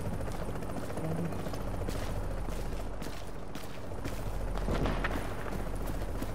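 A helicopter in the video game Tom Clancy's The Division sends a constant heavy rotor drone that fills the scene, broken by sharp bursts of gunfire and impacts.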